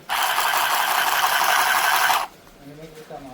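A small battery-powered portable sewing machine runs in a steady, buzzing whir for about two seconds and then stops, leaving quiet room tone with a faint voice near the end.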